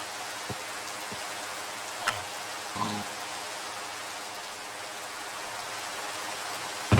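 Steady rain falls in a Minecraft game, an even hissing wash of drops with a few faint clicks and taps scattered through it, ending on a brief louder thump.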